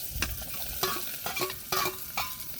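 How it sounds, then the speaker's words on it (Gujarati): Onions frying in hot oil, a dense close sizzle with a few quick clacks and scrapes from stirring, brief and with no speech. "તો મિત્રો આપણે ડુંગળી નાખી દઈએ તેલ ગરમ થઈ ગયું એટલે"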